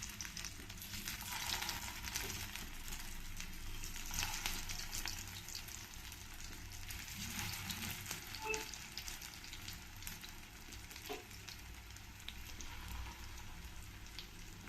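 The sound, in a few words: carrot cutlets frying in hot oil on medium flame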